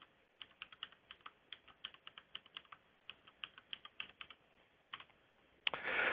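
A password is entered on a computer keyboard: quick, fairly faint key clicks come in uneven bursts, ending in a short louder rush of noise.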